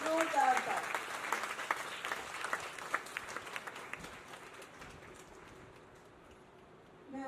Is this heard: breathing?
no